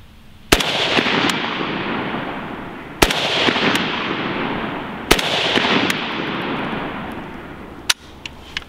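Four loud, sharp rifle shots from a Century Arms VSKA AK47 ring out at uneven intervals while zeroing outdoors from a kneeling position, each crack followed by a long, fading echo.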